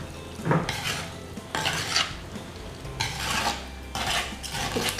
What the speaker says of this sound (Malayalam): നമുക്ക് കുറച്ച് കറിവേപ്പില, അതേപോലെ തന്നെ പച്ച വെളിച്ചെണ്ണ, സ്വല്പം പച്ച വെളിച്ചെണ്ണയും ഒഴിച്ച് ഒന്ന് മിക്സ് ചെയ്ത് കൊടുക്കണം